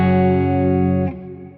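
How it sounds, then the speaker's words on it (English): Electric guitar played with a pure clean tone and a touch of reverb through a pedalboard: a single full chord rings loud and steady, then is cut short and fades away, with no talking. "for my pub patches, I had a pure clean tone. Right, with a touch of reverb."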